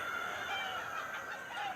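A rooster with a fungal infection and other chickens cluck and call faintly amid a constant hiss of background noise, the bird sounds thin and distant.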